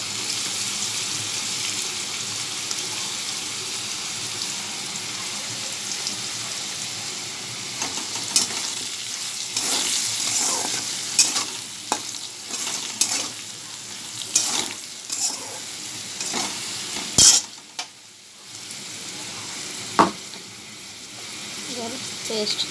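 Potatoes fry with turmeric in a pan, a continuous close sizzle broken by repeated stirring scrapes and clatter, with a brief splash of running water and some quiet talk in the background.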